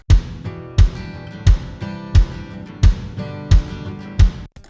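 Dry, unprocessed acoustic guitar track from a rock song mix, played alone with firm strums landing in a steady rhythm about every seven-tenths of a second, each ringing out before the next.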